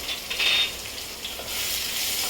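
Kashmiri red chili roasting in a hot pan, a soft steady sizzle with a brief brighter hiss near the start, close and fairly quiet, no voices.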